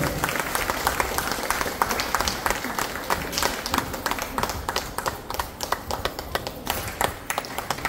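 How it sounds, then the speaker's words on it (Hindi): Audience at an office opening ceremony in Ramgarh claps steadily in a dense, continuous round of applause, individual claps crisp and close, with faint crowd murmur beneath. "जोरदार ताली से इनका स्वागत करें आप लोग"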